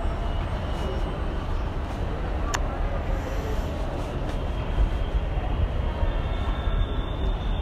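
Metro train rumbling along an elevated track overhead, heard from street level below as a loud, steady, continuous roar with a brief sharp click partway through.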